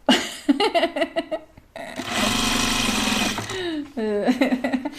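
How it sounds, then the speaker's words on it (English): A sewing machine stitches binding onto a one-yard bias apron in a steady loud burst of about two seconds, set between stretches of people talking and laughing nearby. "are you going to machine sew your binding?"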